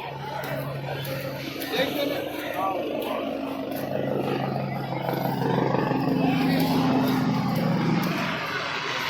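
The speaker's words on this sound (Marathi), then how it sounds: "हे बघा हेलिकॉप्टर पण चाललंय" A helicopter drones overhead with a low, steady engine hum while people talk nearby at Bhaucha Dhakka wholesale fish market in Mumbai.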